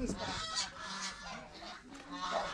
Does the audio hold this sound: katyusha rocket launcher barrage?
no